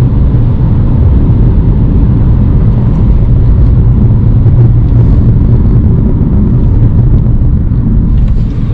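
Steady, loud engine and road rumble from a car cruising on the Siliguri-Guwahati highway after coming off a flyover, a continuous low drone with tyre noise throughout and no talk.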